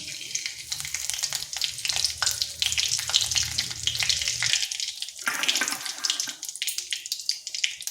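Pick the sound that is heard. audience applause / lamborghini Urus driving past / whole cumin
whole cumin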